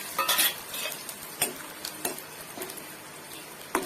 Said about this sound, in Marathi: तेल तापलं आहे मी हे झिंगा तळून घेत आहे